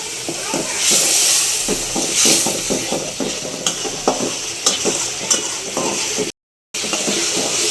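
Spices (turmeric, chili powder, salt) sizzling in a pan while a utensil stirs and scrapes in an uneven rhythm, close by, with a steady frying hiss underneath.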